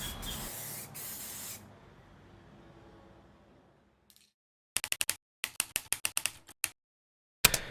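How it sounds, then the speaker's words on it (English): Spray can hissing out paint onto a guitar test patch in a loud, steady burst, then falling quiet, followed by a series of sharp, close clicks and taps. "Whenever you're using spray cans in general, you should always read the labels."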